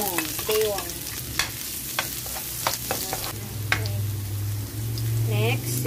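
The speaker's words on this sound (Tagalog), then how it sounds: "Gigisa tayo ng bawang." Garlic sizzles and is stirred in a frying pan on a home stove, a steady close frying hiss with scraping stir strokes and a few brief spoken words over it.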